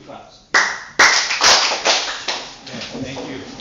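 Two sharp hand claps ring out in quick succession after a Hawaiian chant at a natural farming gathering, followed by a lingering room decay and soft murmuring.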